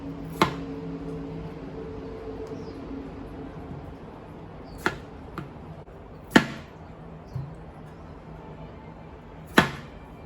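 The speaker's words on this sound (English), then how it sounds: "Yeah, we're going to cut them up." Several sharp knife chops cutting potatoes on a board at irregular intervals, with a steady low hum of kitchen background noise running underneath.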